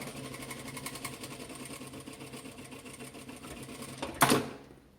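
A domestic sewing machine runs steadily at low volume while backstitching a dish towel, then ends in a brief, sharper burst near the close.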